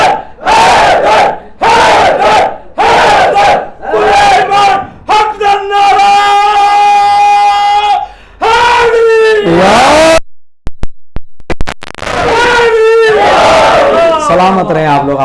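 A majlis crowd at Anjuman-e-Haidery shouts slogans in loud, rhythmic bursts, with a leader's calls answered by massed voices, sustained chanting and a brief pause before the roar resumes.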